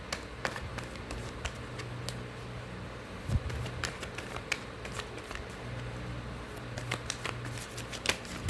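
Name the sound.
shuffling tarot cards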